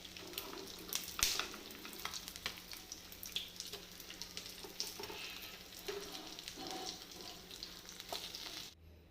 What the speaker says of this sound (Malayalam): നമ്മുടെ കരിമീനെല്ലാം നന്നായിട്ട് ഫ്രൈ ആയിട്ടുണ്ട്